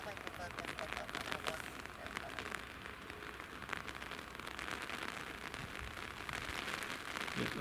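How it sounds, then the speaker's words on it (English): Rain has just turned heavy at Edinburgh Airport and keeps up a steady, moderately loud hiss. A few faint voices sit beneath it. "that rain's just started heavy now"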